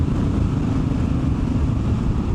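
Triumph Scrambler 1200 XE motorcycle fitted with a slash cut silencer, riding around the block, its engine a steady, loud low rumble with wind noise throughout and no voices.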